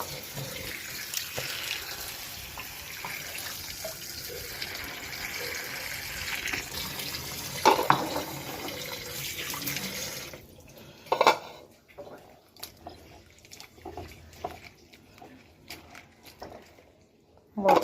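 Tap water runs into a sink while food is rinsed for a curry, a hissing splash with dish clatter and a few sharp clinks, cutting off partway to quieter drips and scattered knocks.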